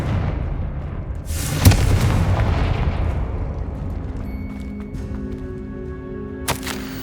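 Confringo fire spells in the Hogwarts Legacy video game go off as a loud booming blast early on, fading into a rumble, followed by a second, sharper burst near the end over a steady ambient hum.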